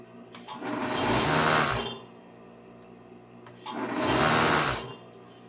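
A sewing machine finishing the facing of a jacket runs in two rapid whirring stitching bursts separated by a short quiet pause, close and clear.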